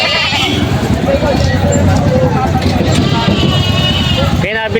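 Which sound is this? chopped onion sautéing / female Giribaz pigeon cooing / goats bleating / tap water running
goats bleating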